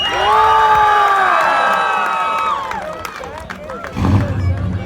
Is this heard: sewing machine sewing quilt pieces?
no